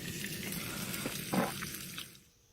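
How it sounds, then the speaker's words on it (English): Bacon sizzling and spitting in a pan on a camp stove at a wild hammock camp, a steady close crackle with a brief louder burst midway before it thins out. "time for me to dish up my bacon"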